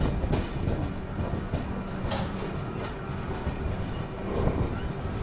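The Maharashtra Express runs at around 120–130 km/h, a fairly quiet, steady rolling rumble of wheels on rails with occasional clicks and brief squeals, heard from inside the train.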